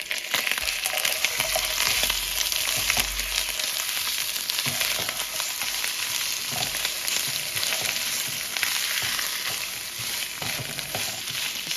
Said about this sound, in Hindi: इसमें मैं 1 टेबल स्पून अदरक लहसुन की पेस्ट डालूँगी और इसको भून लूँगी